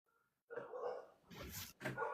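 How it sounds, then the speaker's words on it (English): A dog barks in a short burst of several loud, close barks following a moment of near silence, with no voices in between. "The dog's barking."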